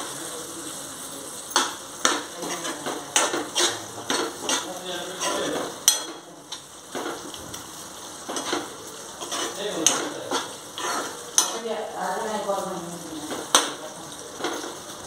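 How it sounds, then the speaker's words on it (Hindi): Tinda sabzi being mixed in a pan after a sprinkle of kasuri methi, with a run of close clinks and scrapes of a spoon against the metal pan, some louder knocks, over a faint background hiss. "इसमें थोड़ी सी कसूरी मेथी डाल देते और अच्छे से मिक्स करते"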